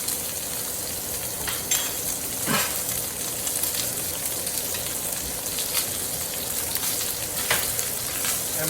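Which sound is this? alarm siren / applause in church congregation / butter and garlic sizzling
butter and garlic sizzling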